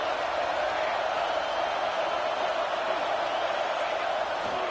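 A stadium crowd in a football video game roars steadily in a red zone moment, a dense, continuous wash of cheering noise with no breaks.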